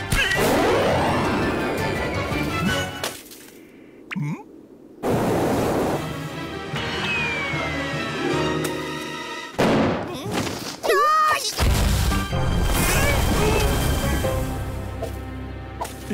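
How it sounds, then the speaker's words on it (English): An animated avalanche crashes down a snowy mountain peak in loud, noisy bursts of roaring rumble and crashing impacts, broken by brief quieter gaps, with faint voices and cartoon effects mixed in. "An avalanche!"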